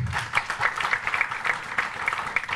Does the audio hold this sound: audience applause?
yes